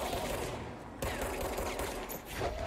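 Rapid burst of gunfire from a weapon in the video game Control, dense and continuous across the clip with a brief break partway, fairly loud with no talk over it.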